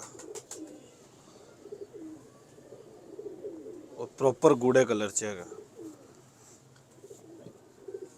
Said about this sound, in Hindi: लाल परी परिंदा कैसा खूबसूरत है